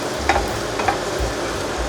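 Vegetables stir-fried in a pan for One Piece-style fried rice, a steady sizzle broken by a few scraping spatula strokes, close and fairly loud.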